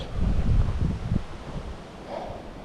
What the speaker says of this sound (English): Holy moly, that wind. It is a windy day out here in paradise.